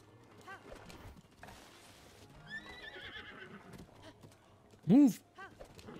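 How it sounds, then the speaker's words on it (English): Inside Zelda: Breath of the Wild, a horse gives a loud, sharp whinny near the end, with light hoof clip-clops earlier, all under quiet game ambience. "Did these guys scare my horse off?"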